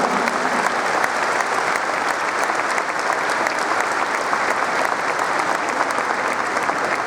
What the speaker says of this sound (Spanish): el aplauso para todas ellas